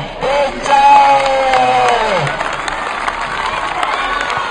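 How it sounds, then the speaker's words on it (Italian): An audience at an anniversary celebration breaks into loud, sustained applause mixed with cheers and whoops, the crowd noise filling the whole stretch before slowly easing. "un bel applauso"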